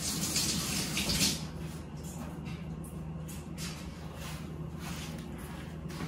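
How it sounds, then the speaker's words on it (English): Water from a kitchen tap runs steadily as hands are washed beneath it, a close splashing hiss that is louder at first, then settles into an even flow with soft shifting splashes. "Now I have to wash my hands."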